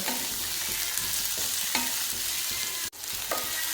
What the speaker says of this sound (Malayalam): നമുക്കതൊന്ന് വഴറ്റിയെടുക്കണം